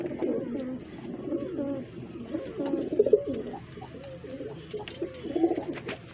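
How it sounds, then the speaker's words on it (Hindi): Highflyer pigeons coo repeatedly in soft, throaty rolling phrases, close by, with overlapping calls and faint background rustle. "बहुत ही लाजवाब कबूतर"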